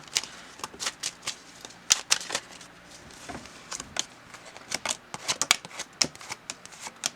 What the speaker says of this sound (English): they're pretty easy to shuffle. They do kind of spin around a lot.